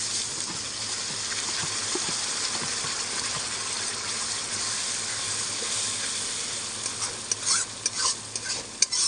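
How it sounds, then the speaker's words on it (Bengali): Spice paste frying in oil in a pan for chicken kosha, a steady close sizzle that gives way to uneven scraping and stirring knocks toward the end, no speech. "ভালো করে মশলাটাকে এবার আমি একটু কষে নেবো"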